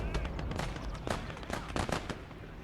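Churchill tank firing in the Gates of Hell: Ostfront video game, several sharp bursts of gunfire and blasts over a rumbling battlefield bed, with brief faint talk.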